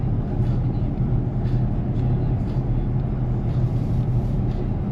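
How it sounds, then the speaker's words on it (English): A stock 2024 Ford Mustang GT with a V8 and dual intake rumbles with a deep, continuous roar, steady and close, low-pitched throughout. "you can really hear the V8 roar, especially with the dual intake over there"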